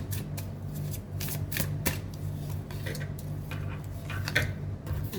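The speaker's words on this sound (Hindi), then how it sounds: "मैं यहाँ पे कुछ अपने एंजल कार्ड शफल कर रही हूँ" Angel oracle cards shuffled by hand, a quick steady run of papery riffles and soft ticks at close range, with a low steady hum underneath and no talking.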